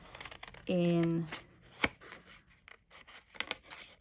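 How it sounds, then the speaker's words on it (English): Paper being fussy cut with scissors for a junk journal: a burst of close, crisp snipping and rustling, with someone talking softly around it. "So I'm just going to sort of fussy cut"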